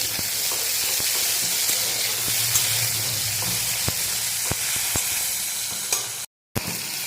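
Tomatoes sizzle in oil with fried onion for a mutton curry, a steady bright hiss with occasional light ticks and scrapes of stirring, close up and with no voices. The sound cuts out briefly near the end.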